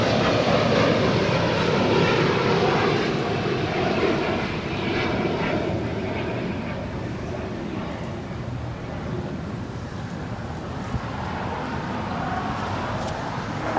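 A fixed-wing airliner takes off from Los Angeles LAX, a loud, broad engine roar that holds steady for the whole stretch and eases only slightly toward the end, with no talk over it.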